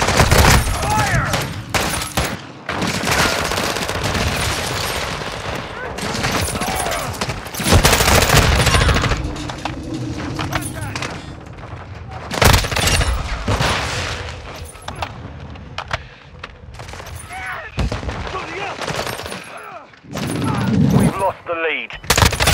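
An M4 rifle fires in a first-person shooter, with repeated loud bursts of automatic gunfire and sharp impacts that come in clusters throughout, while a player talks over the shooting.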